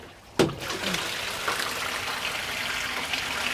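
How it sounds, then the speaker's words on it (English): Water pours and trickles as it drains into a plastic IBC container, starting with a sharp splash and then a steady, close splashing flow that continues throughout. "That's already full, so that water's going to drain into that."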